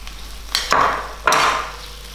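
Sliced tomato added to chicken curry frying in a pot in a Mauritian kitchen, producing two bursts of loud sizzling with stirring scrapes that fade between them, with no talking.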